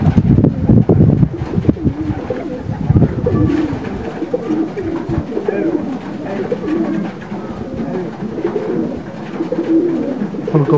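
Pigeons coo nearby in low, soft, repeated calls, with gusts of wind buffeting the microphone in the background.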